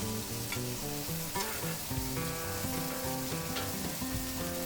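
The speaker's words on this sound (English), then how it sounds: "this griddle is hot here to sear" Burgers and mushrooms searing on a hot griddle give a steady, dense sizzle that holds at an even level throughout, with a faint tonal hum underneath and no talking.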